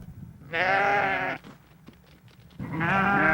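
Sheep raised by Navajo herders bleat loudly and close by, one long quavering call followed after a short pause by another, with quiet rustling in between.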